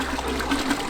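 Mango orange and pineapple orange guava juice pours into a drink in a steady, close trickle lasting about a second.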